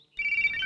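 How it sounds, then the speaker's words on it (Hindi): A mobile phone ringtone starts suddenly and keeps going as a bright, steady electronic tone, sounding fairly close and clear with no one talking over it. "अंजलि, फोन।"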